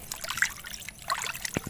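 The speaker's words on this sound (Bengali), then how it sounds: "তো মাছগুলোকে আমি ধুয়ে দিচ্ছি।" Running water trickling and splashing while fish pieces are washed by hand for a traditional fish curry, close and brief, with light dribbling and a small splash near the end.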